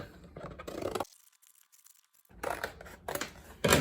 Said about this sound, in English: we're going to start by cutting out the front of our cereal box.